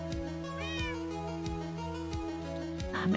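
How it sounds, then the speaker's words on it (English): Cat in Minecraft meows once, short and clear, over steady game background music with a repeating beat and no one talking. "you're such a cute cat also."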